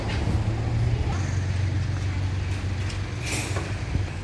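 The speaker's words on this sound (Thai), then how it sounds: "นี่ฮะวิวดีมากรถไฟเห็นไหมคะ" A train rolls past nearby with a low, steady rumble and clatter, while people talk over it.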